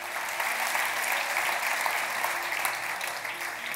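A church congregation claps continuously through a Portuguese-language worship service, a dense, even wash of applause from a crowd at moderate distance with no break.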